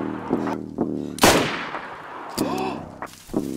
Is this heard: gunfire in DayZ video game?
yes